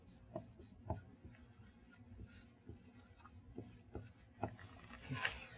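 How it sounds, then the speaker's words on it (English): A black pen moves across paper while working out an equation, giving soft, irregular scratchy strokes and taps, close and quiet, with no voice. "Write it with a black pen"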